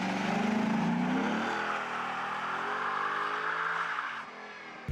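A Ford Mustang in a second-gear burnout roars loud and close, engine climbing in pitch and holding high revs, then dropping off near the end with a sharp knock.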